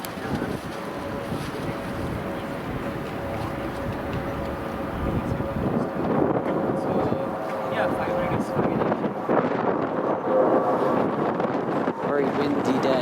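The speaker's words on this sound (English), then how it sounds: "Very windy day. I feel like I'm gonna drop the camera every time it blows." Strong gusts buffet the microphone on a short outdoor railway platform in Windsor, a continuous roaring rumble that swells and dips throughout, with a voice faintly under the wind.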